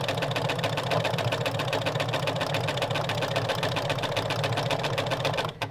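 Sewing machine stitching bunting in a continuous, steady run of rapid needle strokes, close and loud throughout.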